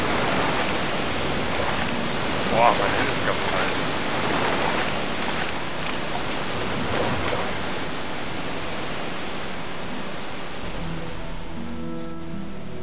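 River water flowing in the video game Gothic, a steady broadband rushing wash that holds evenly throughout, with someone speaking briefly over it and some music entering near the end.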